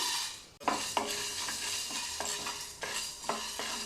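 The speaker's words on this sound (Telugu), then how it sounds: "ఇప్పుడు రైస్ వేయించుకుందాం మిరియాలు వేయించుకుందాం" Rice and black pepper being dry roasted in a pan for homemade sambar powder, a dry rustling sizzle with repeated stirring scrapes at a steady rhythm, close and fairly quiet.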